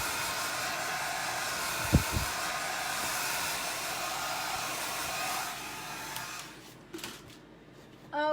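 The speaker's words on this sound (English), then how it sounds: "because I like to use the hair dryer for ink projects, and then I also use it for this" A hair dryer blowing on an ink transfer for a pillow craft project, a loud steady close whir that runs for most of the stretch before cutting off near the end, with a couple of brief clicks.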